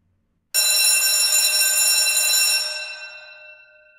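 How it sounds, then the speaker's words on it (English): A wall-mounted firehouse alarm bell bursts into a loud, continuous bright ringing, holding steady for about two seconds before fading away; no voices. "Rang the alarm bell on the wall."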